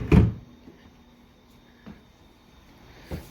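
Drawers in a rental house being opened and closed, one sharp wooden knock followed by a couple of softer bumps and slides, close by with no speech.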